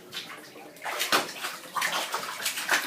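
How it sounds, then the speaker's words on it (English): A young child kicks and splashes in a bathtub, bursts of sloshing water coming close and fairly loud in an irregular rhythm over about three seconds. "Show Mama how you can kick in the water."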